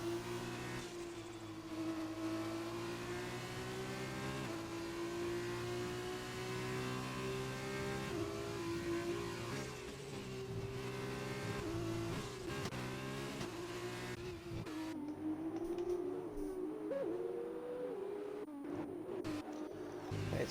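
F2 race cars in an Xbox racing game on the Japanese GP circuit, engines whining steadily at high revs with gear shifts and a brief tire squeal, heard alone without commentary.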